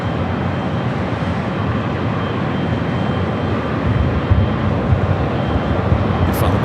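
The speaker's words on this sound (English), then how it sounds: "Back-to-back 757 at 300 departures here." Boeing 757 jets departing back to back at LAX, a loud continuous broadband engine roar and rumble holding steady throughout, distant-to-mid range with no voices.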